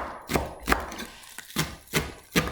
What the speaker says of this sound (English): So you chop them a lot finer than stir fry.